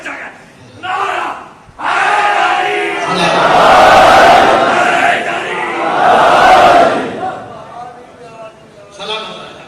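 Large crowd at a Shia religious gathering in Karachi, Pakistan, roaring a loud slogan in unison in response to a call, with a sustained swelling chant, close and strong, preceded and followed by shorter shouts.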